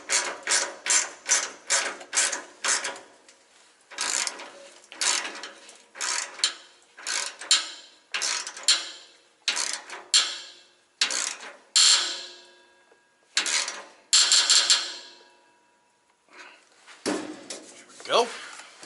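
A hand ratchet tightens 10 mm bolts on an exhaust clamp under a truck, giving many rapid, close clicking bursts in an uneven rhythm with short pauses between strokes and no talk.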